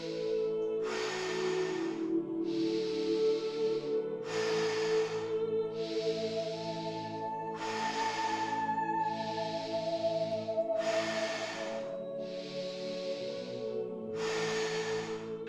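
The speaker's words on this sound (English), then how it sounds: "The next thing you can do is breathing exercise." Wim Hof method breathing exercise: a series of deep, forceful breaths in and out repeats at a steady rhythm, roughly one every couple of seconds, close and clear over a soft sustained background tone.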